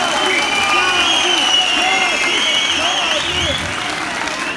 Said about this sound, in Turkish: Bir alkış alabilir miyim Kadip amca?